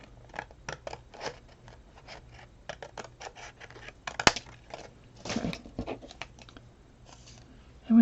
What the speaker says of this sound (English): just cut myself a piece off.